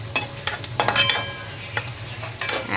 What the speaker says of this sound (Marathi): छान आता मस्त फ्राय करून घेते.